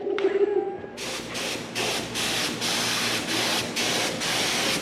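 A spray gun painting a car hood hisses in a series of steady bursts, about six passes with brief gaps between them, loud and close, preceded by a short motor whine.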